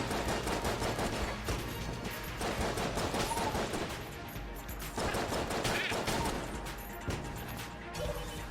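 Rapid gunfire in the bullet-hell game Enter the Gungeon, loud dense bursts of repeated shots and impacts running almost continuously, with short gaps between volleys.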